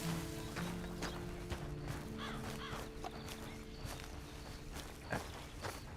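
Horse hooves walking in Red Dead Redemption 2, a steady run of soft hoof falls mixed into game music and ambient sound, with a few sharper knocks standing out.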